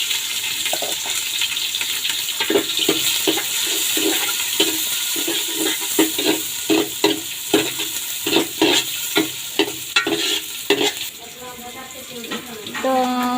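Onions going into hot oil with bay leaves and garam masala for a hand-stirred beef curry, a steady sizzle broken by repeated scraping stirs, with a voice speaking over it near the end.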